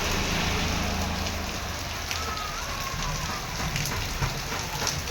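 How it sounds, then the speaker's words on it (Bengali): Heavy rain falls outside a shop, a loud, continuous broadband roar with faint patter and occasional louder drops, steady throughout with no voices. "প্রচুর বৃষ্টি হচ্ছে দেখো।"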